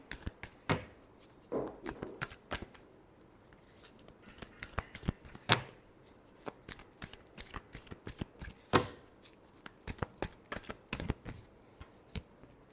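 Tarot cards are shuffled by hand in quick, close, soft riffles and slaps, irregular bursts scattered across the stretch with quiet gaps between, no voices.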